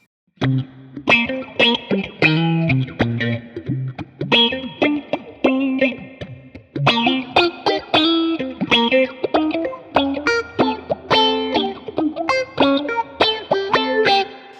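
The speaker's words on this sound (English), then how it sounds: "the all pass with the 5th order filter going on, it's going to sound like this." Guitar played through an Axe-Fx III all-pass 5th-order filter giving a sweeping auto-wah effect, notes and chords shifting with a throaty filtered sweep, steady and fairly loud with no voices.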